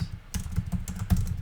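Quick bursts of computer keyboard typing, a few keystrokes in an uneven rhythm, close and moderately loud with no talking.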